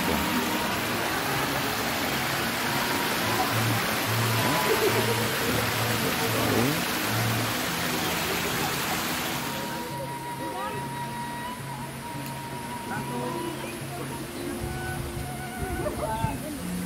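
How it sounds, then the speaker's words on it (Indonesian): A river stream flows steadily near a village bathing spot in Cibulakan, Ciomas, a broad continuous rushing wash of water with people talking over it. "Ini aliran sungai juga dari sana."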